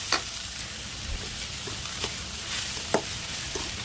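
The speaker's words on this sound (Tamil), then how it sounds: "2 நிமிஷம் கைவிடாமல் நல்லா கிளறி எடுத்துக்கோங்க." Chopped okra with onions stir-fries in a pan, sizzling steadily while a spatula scrapes and clicks against the metal in irregular strokes. No voices are heard.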